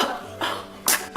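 A baby gives a couple of short, sharp sneezes at close range, each one a quick bright burst separated by brief pauses, with faint household background between them.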